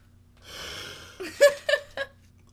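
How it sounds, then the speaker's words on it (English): Evie lets out a long breathy yawn that ends in a few short, squeaky vocal bursts, heard close and alone. "Evie's yawning."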